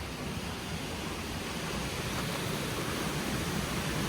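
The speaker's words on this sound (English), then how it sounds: "Underneath the waterfall." Tunnel Falls roars as a continuous, dense wash of falling water heard from up close underneath the cascade on a hiking trail, loud and unbroken with no voices.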